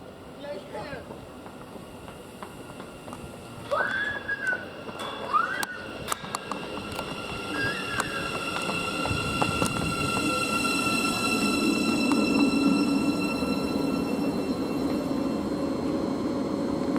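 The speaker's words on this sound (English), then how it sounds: "the next train to arrive in is 700-033" A Class 700 Thameslink train, unit 700-033, arriving at West Hampstead Thameslink station, a steady rolling rumble building gradually over the platform, with brief rising wheel squeals early on and a faint voice near the start.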